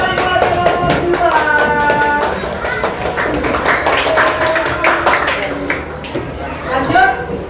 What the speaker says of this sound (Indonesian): Oke, beri tepuk tangan buat kelompok 2.